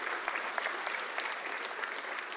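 An audience at a spring benefit event applauds, dense steady clapping with no pauses, moderately distant and without voices on top.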